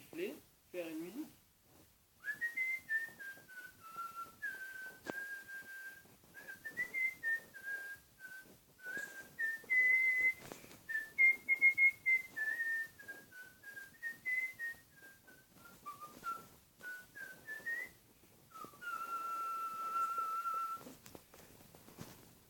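A person whistles a melodic tune, a clear, fairly close line of notes rising and falling in short phrases with brief pauses, a few breaths and noises between.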